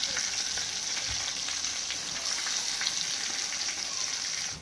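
Spices sizzle and crackle in hot oil as a tempering for chitranna, a continuous fizzing hiss with small pops scattered throughout, fairly close.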